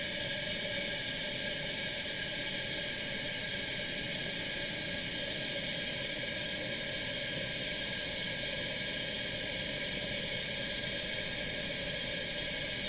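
A 1938 Primus 77 pressure stove burning low at simmer on its auxiliary burner, giving a steady, even hiss with no breaks.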